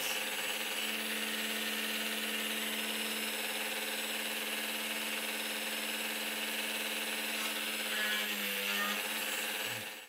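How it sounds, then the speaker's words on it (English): A steady, loud motor drone from a small power drill drilling 1.2 millimetre rivet holes in metal for a one-sixth scale Tiger 1 tank model runs without a break, then cuts off abruptly at the end. "That's all the holes drilled now to take the rivets."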